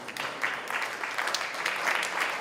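An audience at a Kansas City speaking event applauds, a dense, steady patter of many hands heard from a moderate distance for a couple of seconds.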